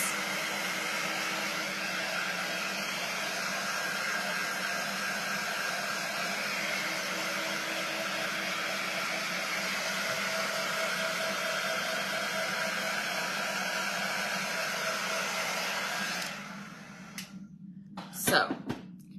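A hair dryer blows steadily on fresh paint on an ornate frame, a loud constant whoosh running for about sixteen seconds before it cuts off, followed by a few small clicks and handling noises.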